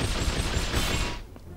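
Walther PPK gunfire in the video game 007 From Russia With Love, a rapid burst of loud close shots for about a second before cutting off into quieter game sound.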